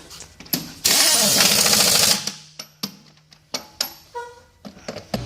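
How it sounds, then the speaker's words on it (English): An impact wrench tightens lug nuts on a tire in one loud sustained rattling burst, followed by sharp metallic clanks and knocks of nearby work. "get a few lug nuts on, and then we'll be able to use the impact wrench"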